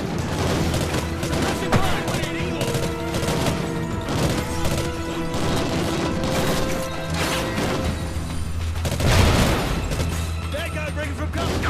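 Dense in-game gunfire from Call of Duty: Ghosts, with bursts of shots, crashes and explosive impacts running continuously and loudly throughout, layered over game music and effects.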